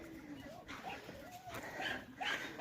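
Dogs in a village yard whine and whimper with thin, high, wavering cries amid faint background noise and some nearby speech.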